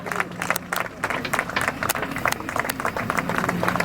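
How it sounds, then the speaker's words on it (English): An audience at a groundbreaking ceremony for a new Nxtra data centre claps, a dense patter of many hands in uneven bursts that stays moderately close and steady. "let's give a hand clap"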